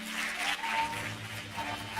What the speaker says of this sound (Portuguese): eu quero pedir para que você aplauda forte a Jesus